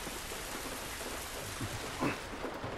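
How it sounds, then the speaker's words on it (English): Steady rain falls outdoors in the video game The Last of Us Remastered, a soft, even patter that continues throughout, with a couple of faint low rumbles partway through. "listen to the sound of the rain."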